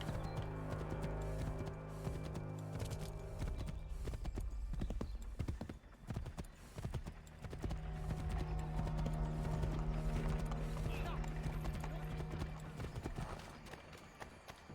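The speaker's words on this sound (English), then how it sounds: "Doesn't feel like I'm going very fast on a horse" Horse hooves clip-clop in quick rhythmic beats as a horse gallops in Assassin's Creed III Remastered, loud and steady over game ambience with a brief dip midway and faint speech in the background.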